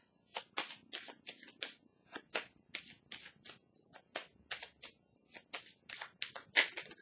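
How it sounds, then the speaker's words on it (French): Tarot cards handled and drawn from a deck: a quick, close series of light papery flicks and slaps, fairly quiet and irregular, with no talking. "On va piger une carte pour déposer sur celle de la destinée"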